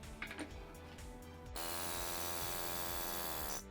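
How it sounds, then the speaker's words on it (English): A pneumatic air hammer with a half-inch bit starts up on a Toyota 2ZZ engine during a teardown, running as a steady, loud, rapid buzzing hammering for about two seconds after a few clanks of handling. "So I'm going to use my air hammer."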